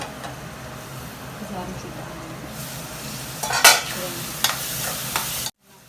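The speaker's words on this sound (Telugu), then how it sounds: "ఆయిల్ పైకి వచ్చే వరకు వేగనిద్దాము" Mushroom and leafy greens fry in oil with a steady close sizzle, with several sharp clinks and scrapes of stirring toward the end before the sound cuts off abruptly.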